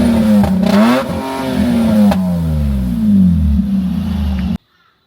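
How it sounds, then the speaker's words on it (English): Nissan TB48 engine, a large straight-six, revs hard up to its factory rev limiter on a quiet road, rising harmonics bouncing against the cut, loud and close, then stopping abruptly. "I'm just going to quickly show you the factory rev limiter"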